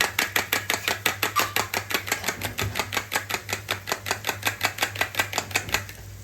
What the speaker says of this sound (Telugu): వేసి మళ్ళీ బీట్ చేయాలి